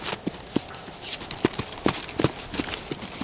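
Mustang gelding's hooves striking ground at a quick, slightly uneven pace, a series of sharp clip-clop thuds at close range over quiet background, with a brief high squeak partway through.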